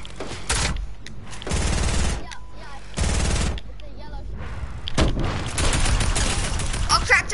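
Video game gunfire erupts in several loud bursts of rapid shots separated by short gaps, close and punchy, with bursts growing denser toward the end.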